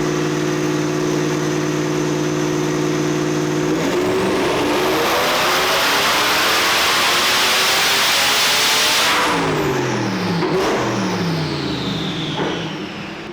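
A twin-turbo Ford Mustang drift car's engine, running loud and close during tuning, first idles, then climbs in one long sustained rev to a high pitch, holds there and drops back down, with no talking.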